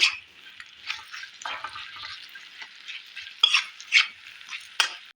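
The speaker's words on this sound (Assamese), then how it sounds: "জলকীয়া গুড়ি দি পেলাই আপোনালোকে আকৌ এবাৰ ভালকৈ গোটেইখিনি বস্তু লৰাই দিব।" A spoon stirs elephant apple jam with jaggery and chili powder in a pan, giving a continuous close scraping and sizzling texture with a few louder strokes near the end.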